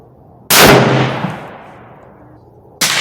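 A single sharp, loud rifle shot from a Tikka T3X Lite deer rifle at a 100-yard range, followed by a long fading echo, with the onset of another blast at the very end.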